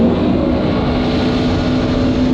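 A Yamaha VX110 four-stroke jet ski with 110 horsepower launches off the line, its engine a loud, steady roar with a constant tone, running without pause throughout.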